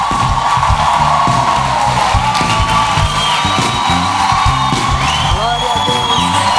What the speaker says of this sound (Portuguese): dê uma salva de palmas de boas-vindas para a pastora Sara Hayashi